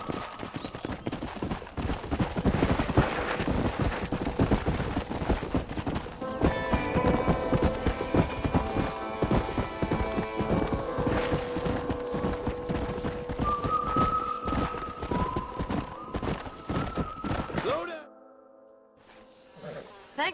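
Horse hooves clip-clop steadily in the Red Dead Redemption video game, a continuous rhythmic trot close and loud over game music, ending abruptly near the close with a brief quiet tail.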